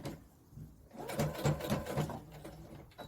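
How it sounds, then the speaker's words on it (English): A sewing machine stitching a children's cushion, a close steady mechanical whir with rapid rhythmic needle chatter starting after a quiet moment and running for about two seconds before easing off. "Okay, so I'm just going to start sewing"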